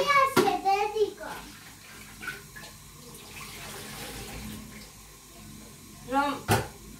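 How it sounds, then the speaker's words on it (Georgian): Tap water runs steadily while dishes are washed in a sink, a continuous wash under the scene, with a voice and an adult speaking near the start and end. "ეს წყალია"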